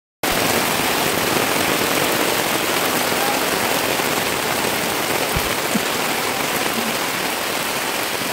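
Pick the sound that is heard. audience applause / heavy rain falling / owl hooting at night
heavy rain falling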